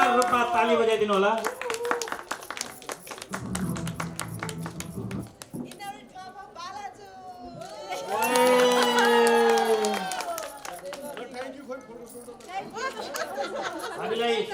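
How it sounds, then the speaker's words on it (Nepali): Crowd at a Rotary Club of Kirtipur Deushi Bhailo event, a loud burst of cheering and shouting mid-clip over constant chatter, with voices heard throughout and a low murmuring stretch earlier. "जोरदार रूपमा ताली बजाइदिनु होला।"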